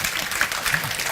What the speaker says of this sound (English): Lars, stand up so you can get some applause as well